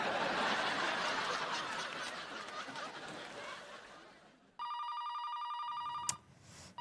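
Cordless home telephone ringing with a steady electronic tone after a stretch of muffled room noise and light laughter, fairly close and loud, ending with a sharp click.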